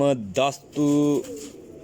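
Teddy pigeons coo in two or three short, close, resonant calls with brief pauses between them, the last trailing off softly.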